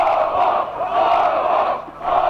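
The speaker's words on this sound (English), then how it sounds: "a swelling crowd of Milosevic supporters shouted encouragement, chanting, "Slobo, you are Serbia."" A large crowd of Milosevic supporters outside a compound shouts and chants in swelling, rhythmic waves, a dense roar of many voices heard from a moderate distance with no single voice standing out.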